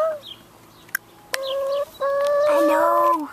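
Chickens clucking close by in a farmyard flock, a series of rising, sustained calls with brief sharp clicks between them, no talk over them.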